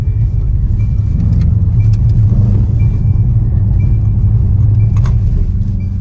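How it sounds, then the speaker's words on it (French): A sports car engine with an open exhaust rumbles loudly and steadily up close, broken by a few sharp crackling pops from the exhaust. "On l'entend bien pétarader"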